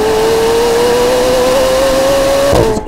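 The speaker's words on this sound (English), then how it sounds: "Also, a new lightweight exhaust, which really amplifies the sound." A McLaren 750S twin-turbo V8 with a lightweight exhaust revs loudly and steadily close by, holding a sustained engine tone that rises slightly before dropping off at the end.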